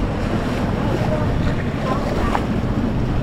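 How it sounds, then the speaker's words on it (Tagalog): Growing sea waves churn around a boat as a thunderstorm approaches, a loud, continuous roar of water and gusting wind buffeting the microphone, with no clear speech. "So lumapalaki na palaki ang alon."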